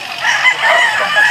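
A rooster crows loudly and close in a rural backyard in La Union, one sustained call with a slight warble, nobody talking.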